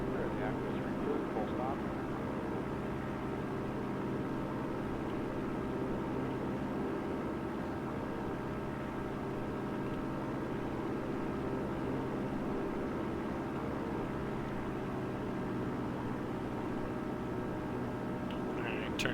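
A Piper Cherokee's engine drones steadily as the plane climbs after a touch and go in a flight simulator game, a constant low hum under faint background noise.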